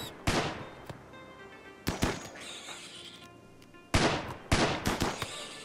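Gunfire in the video game RimWorld: sharp bursts of shots in clustered volleys with gaps between, loud and close, with a quieter stretch in the middle.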